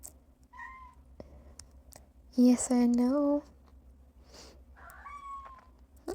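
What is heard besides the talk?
orange and white stray cat meowing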